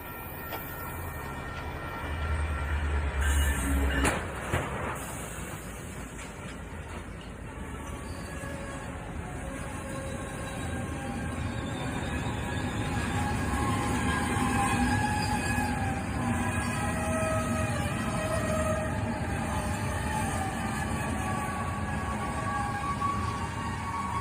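A train crashes into a truck weighing about 44,000 pounds, rumbling and grinding loudly along the tracks, with metallic squeals and a heavy impact early on, then a sustained roar.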